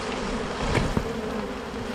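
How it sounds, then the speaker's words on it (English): A swarm of bees in and around a brood box hums in a dense, continuous drone, close and steady, with no voices over it. "that's a brood box full of bees right there"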